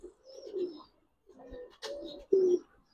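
Giribaz pigeons cooing close by, several short throaty coos separated by brief pauses, one louder call near the end.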